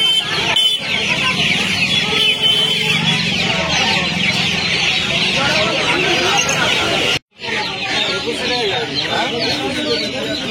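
Many chickens at a crowded roadside poultry market in Uluberia, Howrah, cluck and squawk continuously up close, with a rooster crowing among them and people talking nearby.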